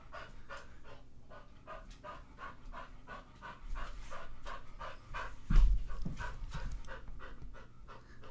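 A dog holding a ball in its mouth pants rapidly and steadily up close, with quick rhythmic breaths throughout and a brief thump partway through.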